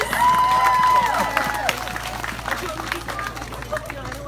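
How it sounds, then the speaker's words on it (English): A comic con audience at a cosplay awards ceremony breaks into applause and cheering, loud at first and then thinning out into scattered claps and crowd murmur. "Let's give him another huge round of applause."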